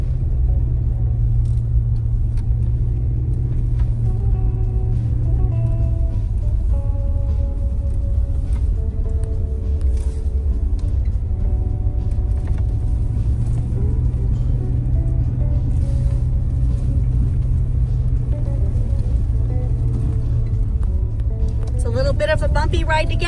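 A car rumbles steadily along a bumpy road on the way to a vineyard, the low engine and road noise loud and continuous throughout.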